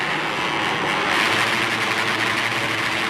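A grid of race motorcycles sits on the rev limiter at the start of a race in Spain, making a dense, rapid buzzing engine drone that holds steady and loud with no voices.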